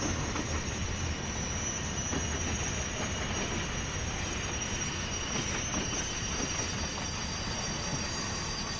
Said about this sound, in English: Some squealing.